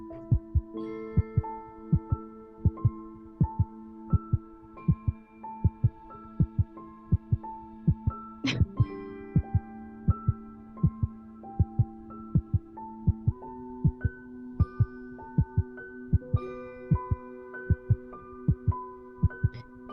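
A heartbeat in a breathing video game thumps in regular, evenly spaced double beats alongside sustained musical tones, steady and prominent throughout without speech.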